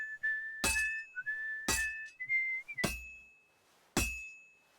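Henry whistles a wavering tune in Kingdom Come Deliverance 2, cut by four loud, sharp metallic clanks spaced about a second apart, with no talking.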